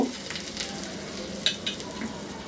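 Zucchini pizza topped with melted cheese bubbling in a pan on the stove, giving a soft, steady sizzle with a few faint crackles and light clicks close by.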